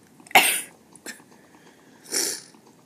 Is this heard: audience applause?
no